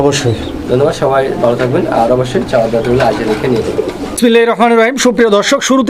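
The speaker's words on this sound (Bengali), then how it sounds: "বাচ্চা সহ কবুতরগুলো যাদের পছন্দ ভিডিওটাকে স্কিপ করবেন না" Pigeons with their squabs coo softly in a sale loft, the calls running beneath someone speaking loudly and almost continuously close by.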